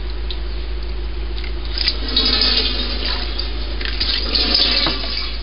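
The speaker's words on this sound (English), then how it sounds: "we're just going to slowly ladle everything into there" Corn mash for moonshine ladled slowly through strainers, giving steady wet sloshing, pouring and splashing close by, with a few louder splashes and scrapes and no talking.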